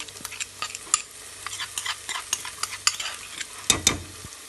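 Garlic paste frying in a pan for pork adobo, stirred with quick clicking and scraping strokes of a spoon over a light sizzle, close and busy, with a louder clatter near the end and no speech.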